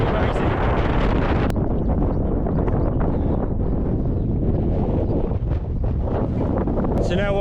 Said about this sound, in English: getting out of this wind